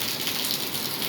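Rain falls as a continuous soft hiss, fairly quiet and even throughout, with no talking over it.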